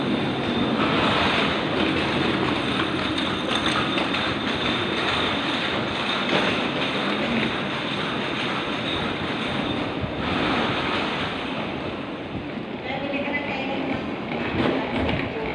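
Heavy rain pours down in a dense, steady roar, with gusting wind blowing into a hallway and swelling the noise throughout.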